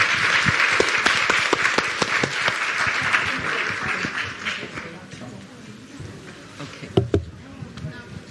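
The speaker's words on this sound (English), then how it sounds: "Let's give all our panelists a round of applause." An audience applauds panelists at a forum, with sharp individual claps standing out over a dense round that gradually thins and fades, followed by a few late scattered claps and voices.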